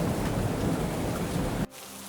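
Heavy rain driven by strong wind roars loudly and steadily, then cuts off abruptly near the end, leaving a quieter rumble.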